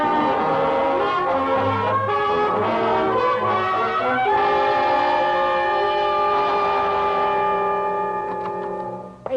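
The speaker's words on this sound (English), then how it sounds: "Away from trains, gentlemen." A train sounds in a radio crime drama: a loud, sustained horn chord holds for several seconds, shifts pitch midway, then fades out, with rumbling underneath and no voices.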